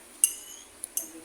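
A spoon clinks a few times against a bowl while stirring mulberries into homemade macapuno ice cream, with two or three sharp, close taps spread over a quiet moment.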